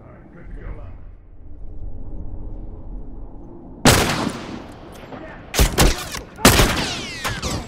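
Enemy rifle fire in The Last of Us at a lakeside, several loud sharp cracks arriving in irregular bursts after a stretch of low rumble, with voices talking in the background.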